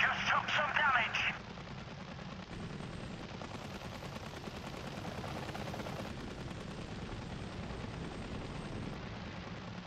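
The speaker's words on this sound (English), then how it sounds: "they're shooting at us!" Gunfire aimed at a helicopter in Apache: Air Assault, a loud rattling burst at the start, then a steady rotor and engine drone with scattered firing underneath, while a voice talks over it.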